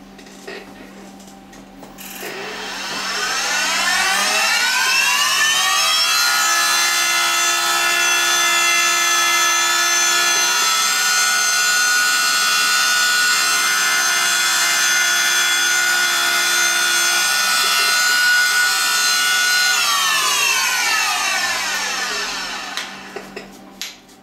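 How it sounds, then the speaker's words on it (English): A steady, loud mechanical whirring and grinding as an engraving machine cuts metal parts of a miniature M1911 magazine, running about twenty seconds, rising after a quiet start and tapering at the end. "we're over at the engraving machine, and I'm just going to cut these 2 overhanging pieces down"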